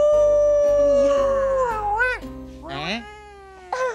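A person's voice imitates a wolf howl with long rising and falling wails, loud and close, with a steady hum underneath.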